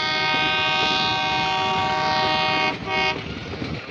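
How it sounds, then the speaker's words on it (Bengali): Meter gauge passenger train running through Gir National Park, a loud sustained horn blast, close and dominant, ending near three seconds, followed by rolling rumble and rattle of the moving cars. "জার্নিটা কেমন লাগলো এই মিটার গেজ ট্রেনের?"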